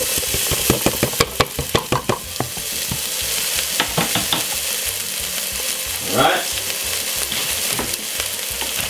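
Three garlic cloves and white onion frying in a hot pan for curry chicken, a loud close sizzle broken by repeated knocks and scrapes of a utensil stirring.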